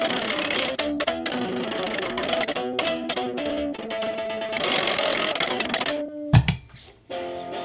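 A circuit-bent Behringer UD300 Ultra Distortion pedal spits out a looping stream of glitchy, buzzing electronic tones and stuttering pulses, loud and close, breaking into a sputtering burst near the end.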